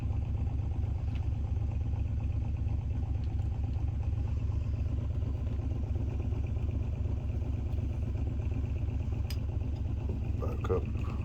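A magnet-ramp pulse motor runs steadily, giving a fast, even rhythmic pulsing and ticking that stays at one level throughout, with a little faint clatter near the end.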